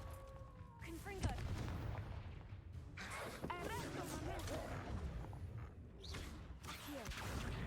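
In a Harry Potter video game, the Confringo fire spell goes off in a fight as repeated loud explosive bursts and crackling booms, with a voice talking during the action.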